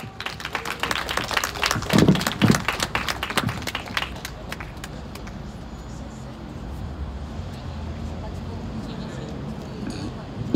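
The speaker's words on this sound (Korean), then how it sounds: "봄날 합창단을 큰 박수로 모시도록 하겠습니다" An audience at an outdoor memorial rally gives loud, rapid clapping to welcome the Bomnal workers' choir. The applause peaks, then thins to scattered claps and fades into crowd murmur.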